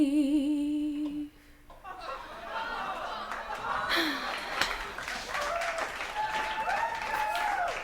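Applause and scattered clapping with light laughter and chatter from a crowd, following a brief sung note at the start.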